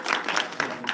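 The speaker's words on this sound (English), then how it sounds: "To get a round of applause for USC" Audience applause at an academic conference session, a brief burst of dense clapping from a seated crowd, fairly close and steady for about a second.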